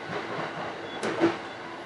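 An E531 series electric train runs steadily on the Tohoku Main Line between Kuroiso and Shin-Shirakawa, Japan, with a broad rumbling hum and a brief sharp click partway through.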